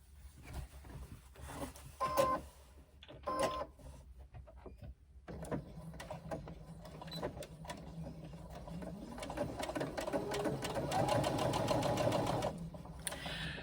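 Sewing machine stitching the side seams of a fabric swim bag, with short bursts and pauses at first, then a longer steady run of rapid needle clatter, fairly quiet and close.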